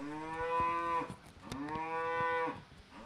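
A cow moos loudly twice at a cattle auction at a stockyard, each long, close, harmonic bellow lasting about a second, separated by a brief pause with faint background noise.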